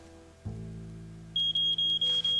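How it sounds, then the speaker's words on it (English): After a low hum starts, a smoke alarm begins beeping in a rapid series of sharp, loud, high-pitched chirps. "Is that the smoke alarm?"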